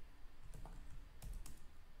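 A few scattered keystrokes on a computer keyboard, soft, close and irregular, heard over a low room hum while code is being written.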